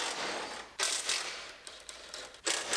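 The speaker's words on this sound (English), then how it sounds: "we'll unbolt the two outside brackets for the bumper" Ratchet clicking while unbolting the outside bumper brackets on a 2019 GMC Sierra Denali, a close mechanical rasp in bursts with short pauses between pulls.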